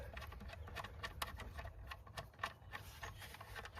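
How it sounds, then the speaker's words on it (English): A small hand ratchet clicks in quick, uneven bursts while tightening a purge valve bolt on a Ford Taurus, with close, dry ticking taps. "I'm using a small ratchet just because you don't really need to torque this super tight."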